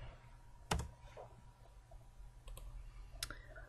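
A computer keyboard typing a short word into a spreadsheet cell in Excel, a few sharp isolated key clicks spaced apart in a quiet room.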